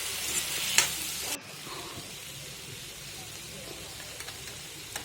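Salted tomatoes being sautéed in a pan crackle under a bright sizzle, with a loud scrape early on before the frying drops to a softer steady hiss.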